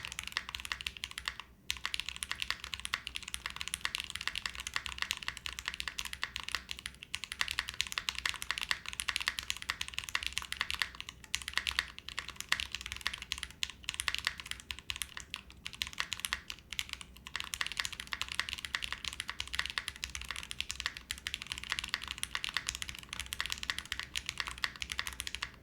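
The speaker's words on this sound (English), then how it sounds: "let's type some stuff for Dr. Doofin now." Steady, continuous typing on an Ace 6.5 prototype mechanical keyboard, with dense overlapping keystroke clicks close up and no voices throughout.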